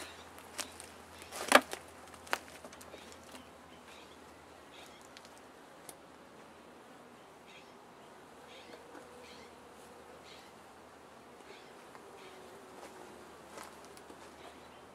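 Honey bees buzzing around hive frames during a hive inspection, a faint, steady hum with scattered louder buzzes as single bees pass close, plus occasional small clicks and knocks from handling the frames.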